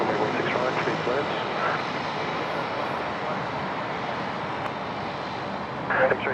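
Airliner rolling for takeoff on runway 16 right at Sydney Airport in heavy rain at night, a steady broadband engine roar mixed with rain hiss, sustained and fairly distant throughout, with faint voices in the background.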